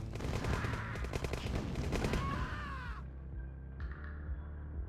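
Rifle gunfire from OpenRA Tiberian Dawn, a rapid crackling rattle of small-arms shots layered thick for about three seconds, then fading out into quieter game sounds.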